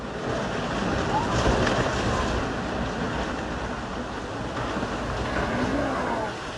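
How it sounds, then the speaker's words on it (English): A glacier-melt flood torrent from Suicide Basin surges down Alaska's Mendenhall River, toppling trees; a loud, continuous rushing roar of water holds steady throughout with no break. "a torrent of water from the mountains above topples trees like dominoes"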